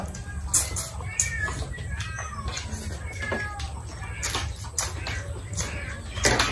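Cats meow in short, scattered cries at a home, interspersed with clucks from nearby chickens and faint bird chirps over a low steady background, with a voice occasionally in the mix.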